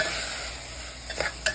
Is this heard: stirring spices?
yes